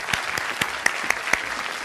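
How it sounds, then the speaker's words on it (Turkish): A studio audience on a Turkish cooking show applauds to welcome a chef. The claps are crisp and spaced, with a few sharp accents standing out, at moderate volume and with no talking. "büyük alkışlarla karşınıza efendim Cemil Çengeli, Cemil Usta'yı, Cemil Şefimizi davet ediyorum"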